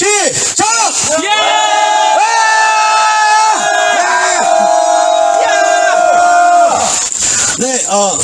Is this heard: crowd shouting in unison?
yes